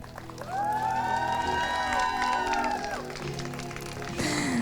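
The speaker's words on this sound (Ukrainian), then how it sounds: "залишається подарувати батькам найкращим батькам ваші теплі, дружні оплески" Guests at a wedding ceremony applaud and cheer for the couple's parents, the warm crowd clapping rising over background music and swelling again toward the end.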